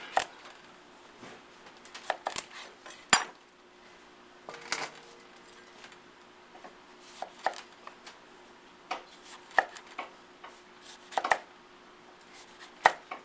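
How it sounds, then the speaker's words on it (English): A kitchen knife slices a hollowed delicata squash into half-inch rings, giving a series of crisp, close chops at an uneven pace, some sharper and louder than others, with quiet gaps between cuts and no voices. "I cut them into rings of about roughly a half an inch"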